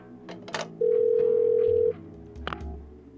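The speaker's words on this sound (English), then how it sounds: "Public phone. 75 cents. Wonder if it works?" A public pay phone in the Parasite Eve II video game, with short clicks, then a steady electronic tone for about a second, followed by further clicks and a low hum.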